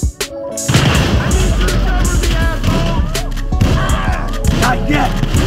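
A grenade blast in GTA V lands amid dense, continuous game combat noise, with heavy booms and gunfire-like cracks filling the mix and voices speaking over the chaos.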